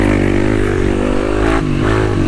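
Kawasaki KLX 300 dual sport motorcycle engine revving on a dirt trail, a loud, close, continuous throbbing drone with slight pitch rises as the throttle opens.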